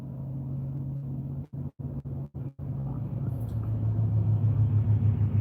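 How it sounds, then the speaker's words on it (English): A delivery truck engine idles at a box store loading stop at dawn, a steady low rumble with brief dropouts partway through, close and continuous. "Oh, there's a truck."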